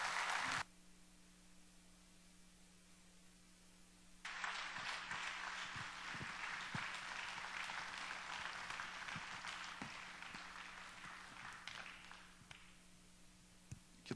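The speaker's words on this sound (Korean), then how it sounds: "목사님 나오실 때 한번 박수로 환영하겠습니다." A church congregation applauds to welcome Pastor Kim Ki-ho to the pulpit at a Korean worship service, a dense, sustained wash of clapping starting after a brief pause and continuing steadily for about ten seconds before thinning out.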